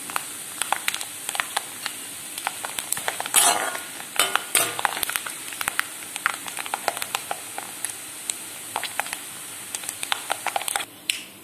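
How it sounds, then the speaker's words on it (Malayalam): Grated coconut fries in coconut oil in a pan, giving a soft continuous sizzle broken by frequent clinks and scrapes of a stirring spoon against the pan. "നാളികേരം വെളിച്ചെണ്ണയിലൊന്ന് മൂപ്പിച്ച് മാറ്റി വയ്ക്കാം"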